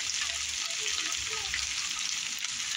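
Chicken pieces hitting a frying pan with chorizo, giving a steady close sizzle and crackle that runs the whole time.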